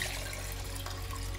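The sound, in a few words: pouring homemade ginger drink into a cup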